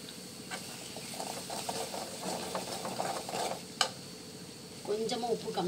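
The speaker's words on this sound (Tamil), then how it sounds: "நல்லா எண்ணெயிலேயே கிளறி விடுங்க" Pirandai thuvaiyal chutney is stirred in oil in a pan, with a spoon scraping and clacking in quick irregular strokes over a soft background sizzle, plus a few sharper knocks near the end.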